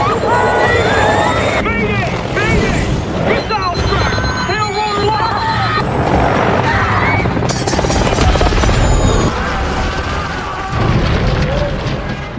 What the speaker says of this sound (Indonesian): Lalu tiba-tiba helikopter tersebut ditembak jatuh oleh pasukan Big Daddy.